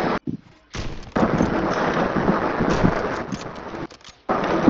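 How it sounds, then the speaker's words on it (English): Warzone 3 Plunder gunfire comes as loud, dense bursts of shots over a dull rumble, with brief pauses between the volleys and no voices. "I'm shooting the dead body"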